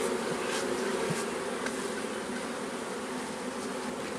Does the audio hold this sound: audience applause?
no